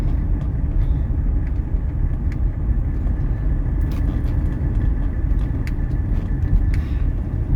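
A 1985 Mercedes-Benz 300TD wagon drives through Atlanta traffic. Its diesel drone and road noise form a steady, loud rumble from inside the cabin, with faint clicks over the top and no talking.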